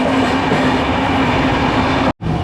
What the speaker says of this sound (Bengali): দারুণ স্পিডে দৌড়াচ্ছে আমাদের দার্জিলিং মেল